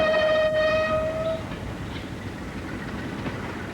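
A train travelling in China sounds a long steady horn at the start, then carries on as a continuous rumbling of rolling wheels and carriages, fairly close and with no talk.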